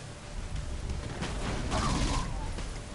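Dual SMG fire in the video game Saints Row IV, a dense burst of rapid shots over a continuous rumble of game action, lasting a few seconds.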